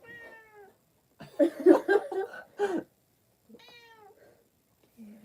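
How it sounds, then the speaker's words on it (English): A house cat meows several times in short, separate calls with pauses between them. A burst of louder indoor chatter and laughter from people sits in the middle, and the cat is heard close by. "Here comes the cat."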